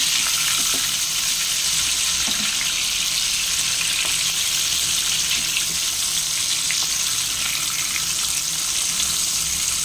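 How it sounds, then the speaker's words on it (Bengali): Potatoes fry in hot oil with a loud, continuous sizzling hiss that holds steady throughout, with no voices over it. "আলুগুলো ভেজে নিই।"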